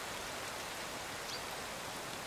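Steady rain falls outdoors, a soft, even hiss of drops holding at a constant level with no voices.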